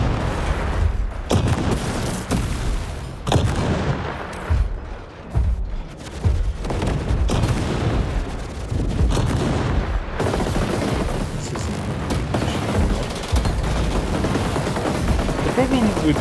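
Mech cannons fire in the video game War Robots Frontiers, with repeated heavy booming shots and explosions in a dense, loud battle mix, someone talking over the gunfire.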